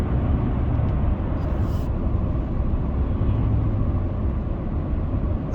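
A car cruising along a mountain road, with a steady low engine and road rumble heard from inside the vehicle, continuous and even throughout.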